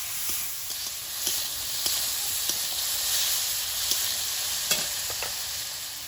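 Spices sizzle and hiss in a hot pan with tomato, green chilli and black pepper powder, a steady close frying sound broken by sharp taps and scrapes of stirring.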